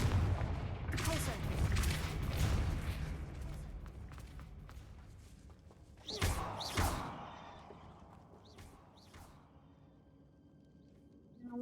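Confringo blasting spell explosions in Hogwarts Legacy, a rumbling blast at the start followed by two sharp booms near the middle, with fainter impacts trailing off.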